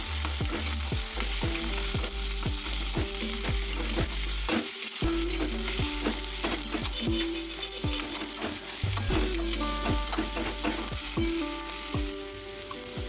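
Boiled bottle gourd leaves mashed and stirred in a pan over a low flame: a steady close sizzle with repeated scraping strokes running throughout, no voices.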